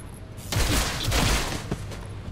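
A dense volley of gunfire from the tactical video game XCOM Chimera Squad, with several close, loud shots packed into a quick fusillade that rings out over about two seconds.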